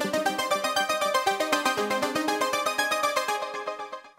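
Arpeggios from a Roland Alpha Juno 1 and a Dave Smith Tetra synthesizer play together as a dense, rapid, layered run of bright repeated notes that holds steady, then fades out at the end, with no voices.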